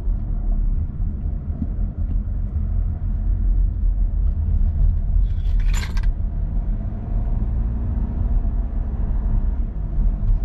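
A Volkswagen Tiguan II 2017 with a 150 hp TDI diesel engine, heard from inside while driving: a steady, loud low rumble of engine and road noise throughout, with one brief metallic jingle near the middle.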